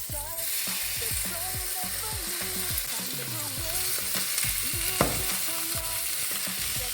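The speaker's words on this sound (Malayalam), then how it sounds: "നമുക്കിത് തുറന്ന് വെച്ചിട്ട് വറുത്തെടുക്കാം." Eggplant pieces with curry leaves fry in an open pan, giving a loud, steady sizzle and crackle, with occasional clicks of a utensil turning them and no one talking.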